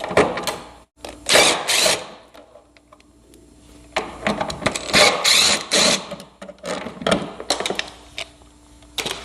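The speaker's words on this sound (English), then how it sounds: "this is a 10mm socket I'm going to use to pull these 3 bolts" A 10mm socket ratchet works bolts loose from a Honda snowblower, giving clusters of quick close clicking and rattling bursts separated by short pauses.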